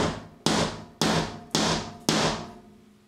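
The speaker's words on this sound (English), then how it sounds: "take a hammer and give it a few gentle taps" Four sharp, gentle hammer taps on a metal hollow wall anchor ring out at an even pace, each leaving a short ringing decay.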